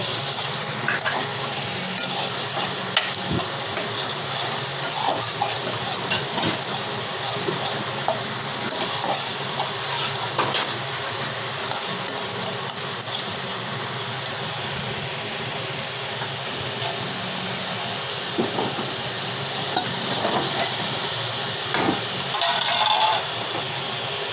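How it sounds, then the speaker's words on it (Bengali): Spice paste and onion paste fry in a pan in a Bengali kitchen, a steady close hiss and sizzle with occasional soft scrapes and taps as the mixture is stirred, continuing evenly throughout with no talking. "পিঁয়াজ বাটা সব কিছু দিয়ে ভালোভাবে কষিয়ে নিব"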